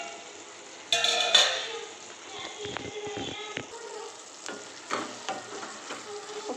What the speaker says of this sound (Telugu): కొద్దిసేపు మగ్గనివ్వాలి. మూత పెట్టేసుకొని మగ్గనివ్వాలి.